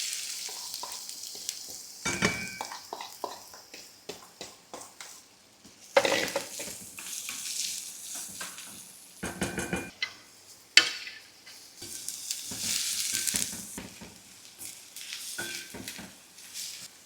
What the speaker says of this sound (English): I'm adding the onions.